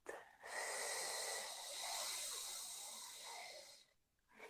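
A person exhales steadily through the mouth during a breathing exercise for voice and diaphragm work: one long, close breathy hiss that lasts several seconds and then stops, with no talking.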